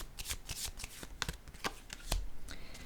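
A shadow card is handled and drawn from a deck, giving a series of quick, crisp paper flicks and shuffling rustles, close and fairly clear, with no talk over them.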